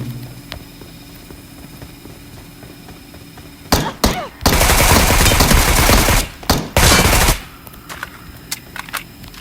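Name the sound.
gunfire in a video game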